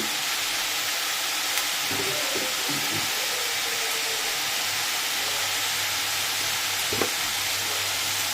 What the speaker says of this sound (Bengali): এবার ভালো করে এটা কষাবে।